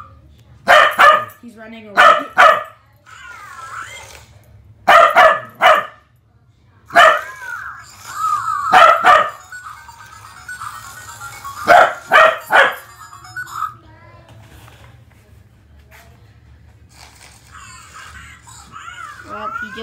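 A dog lets out loud, sharp barks in quick bursts, pausing between volleys, with a person speaking briefly amid them before things quiet down.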